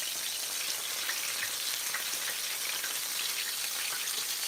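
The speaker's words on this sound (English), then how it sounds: "So we can get on in there and start frying." Steady, dense sizzling and crackling of chicken wings frying in hot oil, continuous and fairly close, with no talking.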